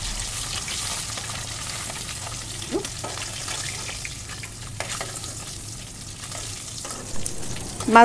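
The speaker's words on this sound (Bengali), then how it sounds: "এখন আমি শাপলাগুলি ভাজি করে নেব" Water lily stems fry in hot oil in a wok, a continuous soft sizzle with occasional stirring clatters, close and alone.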